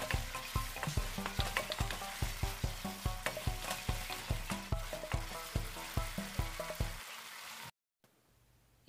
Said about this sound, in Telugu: ఒక 2 టొమాటోస్ వేసి అవి బాగా కలబెట్టుకొని మూత పెట్టేసి కొంచెం అవి మెత్తగా అయ్యేంతవరకు టొమాటోలు బాగా మగ్గించుకోవాలి